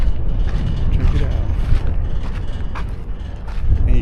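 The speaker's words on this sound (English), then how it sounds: "And you can really hear that bridge rattling" A bridge rattles and creaks under steady broadband rumble, with continuous clanking and groaning from the structure that is loud and close throughout.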